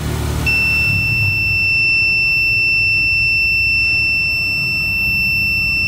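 An Arduino-based home security alarm buzzer sounds a steady high-pitched electronic tone continuously after a brief start, loud and unbroken over a low background rumble.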